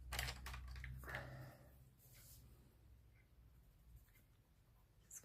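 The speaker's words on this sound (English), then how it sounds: "so I'm going to get my black pencil" A black pencil drawing on paper, quick scratchy strokes close to the mic, busier at first and then lighter and sparser, with no talk.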